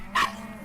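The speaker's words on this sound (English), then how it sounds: "they have the little barking dog" One short, sharp yip from a small neighborhood dog, close and clear over a low steady hum, with no voices.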